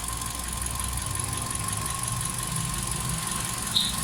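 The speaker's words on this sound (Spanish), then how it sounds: "Ahí ya empezó a funcionar el motor." A warm car engine idling steadily, a constant low hum with a faint electrical whine, close and even throughout, with one brief high chirp near the end.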